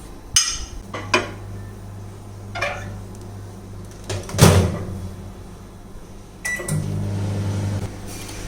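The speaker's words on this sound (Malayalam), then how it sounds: "ഞാനിപ്പോൾ ഇത് ഓവനിൽ വെച്ചാണ് വറക്കുന്നത്" A kitchen oven roasting bitter gourd pieces: door clunks and latch clicks, a few dish clinks, then a steady low hum as the oven runs, close and fairly loud.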